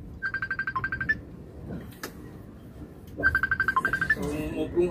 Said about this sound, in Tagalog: may tumawag sa cellphone mo